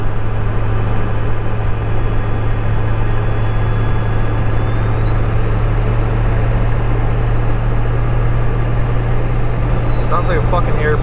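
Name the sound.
2000 7.3 turbo diesel truck engine driving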